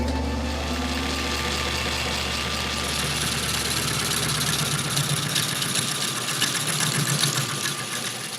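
A metal-turning lathe, assembled at home and built for high-precision work, runs steadily with a continuous mechanical hum and whine that grows slightly rougher and busier toward the end, with no talking.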